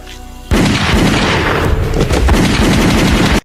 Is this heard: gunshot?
yes